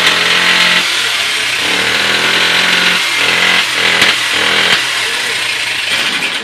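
Hero Honda CD70 motorcycle engine with several internal faults runs steadily and loudly up close, giving an odd, rough tone with small uneven surges, alone without talk.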